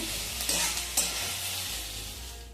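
Whole spices for a dhaba-style paneer masala fry in a pan with a soft, steady sizzle, broken by two light scrapes of a spoon early on, then fading slightly toward the end.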